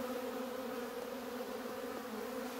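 A strong swarm of honeybees on a homestead, a dense, continuous buzzing hum from many insects, even and unbroken throughout, moderately close.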